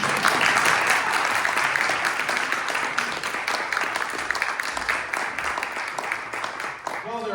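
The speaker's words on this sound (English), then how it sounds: "And all the ladies and gentlemen on the hillside applauded." Steady applause from a crowd of ladies and gentlemen on a hillside, continuous and fairly loud throughout, with a voice briefly audible near the end.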